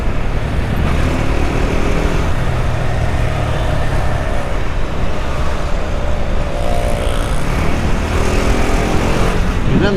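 A KTM Duke 390 BS4 motorcycle being ridden, its engine droning loud and close with rising and falling revs and rushing wind noise throughout.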